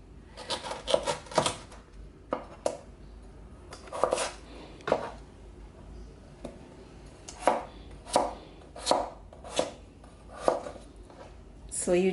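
Knife chopping peeled celeriac into roughly one-inch cubes on a board, a run of sharp close thumps in uneven bursts with short pauses between, no talking.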